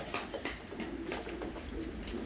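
Pigeons coo softly close by as they gather at scattered feed in a loft, several low throaty calls over a quiet background.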